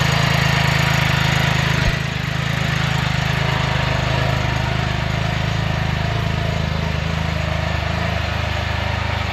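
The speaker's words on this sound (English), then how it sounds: "So let it idle for 10 minutes and we'll see how it sounds after that." A car engine fitted with a primary muffler delete pipe idles in a loud, steady, low rumble close by, changing only slightly in tone after a couple of seconds.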